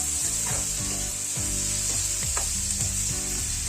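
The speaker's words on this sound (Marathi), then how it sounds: "टोमॅटो घालायचा. व्यवस्थित परतून घ्यायचं, थोडं एकजीव करायचं." Tomato sautés in a pan for a Malvani-style prawn dish, a constant loud sizzle with rhythmic scraping strokes of a spoon stirring about twice a second.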